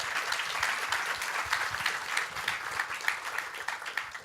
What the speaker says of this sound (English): So can you give the guys a round of applause?